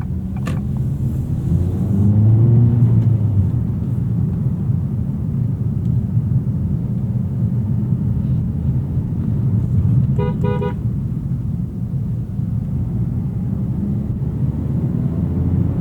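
Acura Integra driven with traction control off in comfort mode, a steady engine drone and road rumble from inside the cabin with a brief tonal chime partway through, continuous and fairly loud.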